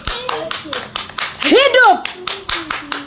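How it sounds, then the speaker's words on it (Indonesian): Sharp, evenly spaced hand claps ring out close by in a steady rhythm, with a voice and other talk rising over them partway through. "Tepuk tangan dulu."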